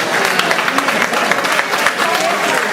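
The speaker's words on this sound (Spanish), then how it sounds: "aplauso realmente para él" An audience applauds a prize winner at a cultural event, a steady wash of many hands clapping at close range with faint voices mixed in.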